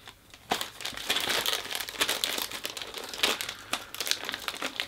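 Plastic wrapping crinkles and rustles up close as a package is torn open, in busy irregular bursts.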